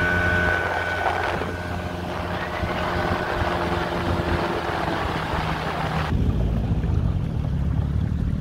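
A motorboat speeds across open water in strong wind, with a steady engine drone and heavy wind buffeting the microphone throughout, loud and continuous with no talking.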